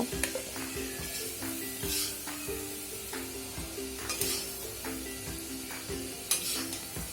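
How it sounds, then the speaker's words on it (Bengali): Potato pieces seasoned with salt and turmeric fry until browned, a steady close sizzle broken by repeated scrapes and clinks of a spatula stirring them around the pan. "আলুগুলো লাল করে ভাজা হয়ে গেলে"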